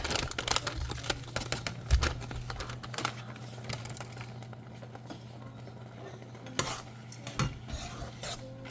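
A spoon scrapes and knocks around a pot in irregular strokes, with a low steady hum underneath and a couple of sharper clinks.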